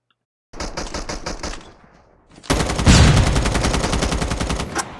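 Rapid automatic M4 rifle fire from the Call of Duty Mobile battle royale, loud and close in two bursts: a shorter one, a brief pause, then a longer sustained volley with no talking.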